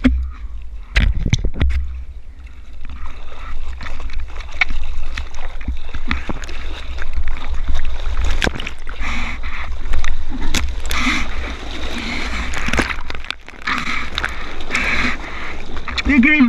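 Rowing a small boat through surf toward shore off Mauritius at night: splashing oar strokes and churning water fill the whole stretch, close and loud, with a few sharp knocks and people talking over it.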